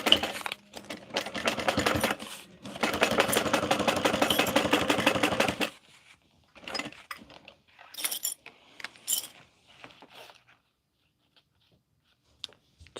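A sewing machine runs in two fast, steady bursts of stitching in the first half, then stops; scattered light handling clicks and rustles follow in near quiet.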